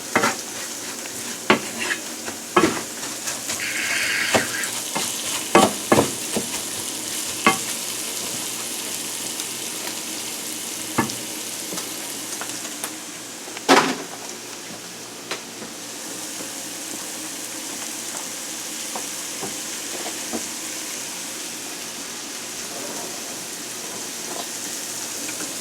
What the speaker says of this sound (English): You want to saute this a little bit until the rice is a little opaque.